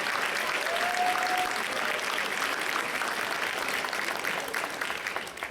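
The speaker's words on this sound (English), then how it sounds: "Let's give all of our students another round of applause." Audience at an employee-of-the-year red carpet show for a school district gives sustained, dense applause that stays steady throughout and fades slightly near the end.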